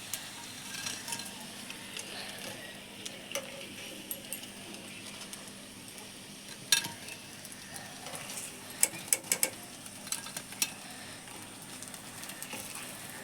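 Sago and paneer pakoras lifted from hot frying oil, with a steady soft sizzle and a few sharp metallic clinks of a slotted spoon near the end.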